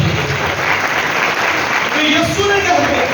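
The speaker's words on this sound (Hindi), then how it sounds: "यीशु के लिए जोरदार ताली।" A church congregation claps loudly and continuously during a Sunday sermon, a dense wash of applause with faint voices mixed in.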